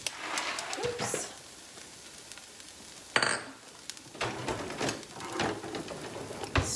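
Goulash ingredients with garlic and pasta being stirred in a pan, scattered clinks and scrapes of a utensil over a faint sizzle, fairly quiet with a sharp knock partway through and some talking.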